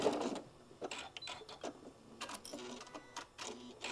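A sewing machine stitches an eighth-inch seam along a drawstring casing in short, faint, stop-start bursts of whirring.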